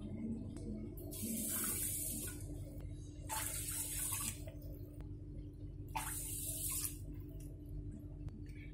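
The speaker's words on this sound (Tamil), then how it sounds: "நான் வந்து ஒரு கப் பச்சரிசிக்கு மூணு கப் தண்ணி சேர்த்துறேங்க" Water is poured onto washed raw rice in three separate bursts, each a bright, splashy pour lasting about a second, with short pauses between them over a low background hum.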